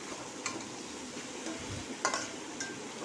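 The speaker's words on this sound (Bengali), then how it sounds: "এখন দাঁড়িয়ে থেকে অনাবরত নাড়তে হবে" A spoon stirs pointed gourd and potato fry in a pan with egg, giving a soft, steady sizzle broken by a few scraping clinks of the utensil against the pan.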